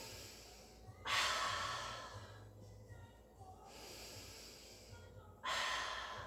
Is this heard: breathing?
yes